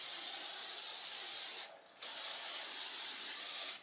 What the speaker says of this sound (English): you can take and put a hairspray